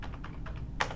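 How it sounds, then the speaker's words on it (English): A password typed on a computer keyboard, a handful of quick, close key clicks in an uneven rhythm, the last one sharpest. "I'm entering my password"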